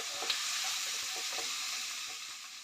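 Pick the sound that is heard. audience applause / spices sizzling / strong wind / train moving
spices sizzling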